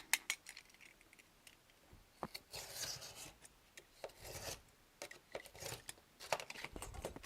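A knife blade drawn along a straight edge on a cutting mat while shaping model railway platform pieces: quiet, close scraping and rasping strokes in short irregular bursts, with brief pauses between cuts.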